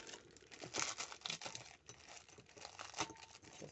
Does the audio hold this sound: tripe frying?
no